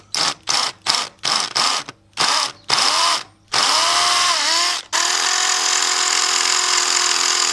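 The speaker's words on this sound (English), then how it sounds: "We're going to try and drill it" A power drill whirs in a series of short bursts, then runs in two long continuous grinding stretches, loud and close, with no talking, drilling off a stuck bolt head on a motorcycle.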